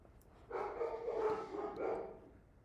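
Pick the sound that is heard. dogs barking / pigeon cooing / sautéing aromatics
dogs barking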